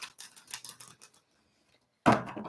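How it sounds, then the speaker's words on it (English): A deck of cards is shuffled for a psychic reading, giving a quick run of crisp riffling snaps, a short pause, then a louder burst of card flutter close to the microphone. "So come on in while we get this shuffle going."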